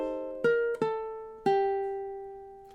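Three plucked chords on a ukulele, part of a Star Wars chord melody, each ringing out and decaying, the last one sustained and fading alone.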